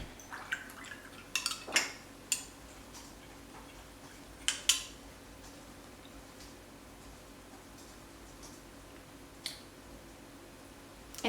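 Dishes and glassware clink and clatter in a quiet kitchen while water is fetched, with a few sharp knocks clustered early and a couple of isolated clinks later over a low, steady background hum.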